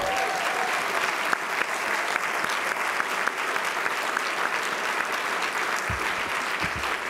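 An audience at an award ceremony applauds steadily, a dense, even roar of many hands clapping that holds at a constant level throughout.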